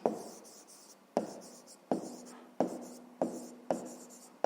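A pen writes a sum on paper during a fifth-grade maths exercise, giving about seven sharp, scratchy strokes at a steady pace, each fading quickly, close and fairly quiet with no talk.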